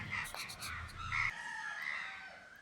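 Chickens call out over steady background noise at a monastery in Myanmar, with a drawn-out crow-like cry standing out among the squawks, fairly distant.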